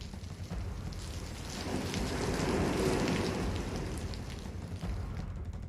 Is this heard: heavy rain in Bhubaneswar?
yes